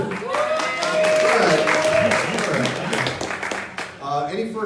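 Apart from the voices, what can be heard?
audience applause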